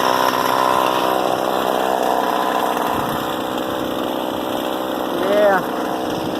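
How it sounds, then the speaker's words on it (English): A chainsaw runs close and loud with a steady high whine as it cuts a felled tree outdoors, its pitch sagging under load, with brief voices over the engine. "Chainsaw."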